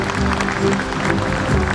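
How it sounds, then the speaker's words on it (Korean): Brief burst of warm applause from the audience at the World Korean Business Convention, welcoming a guest being introduced, a dense, even patter of many hands filling a large hall. "따뜻한 박수로 환영을 해주시기 바랍니다."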